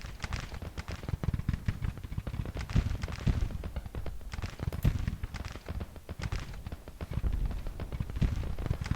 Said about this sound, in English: We hear some gunfire in the distance.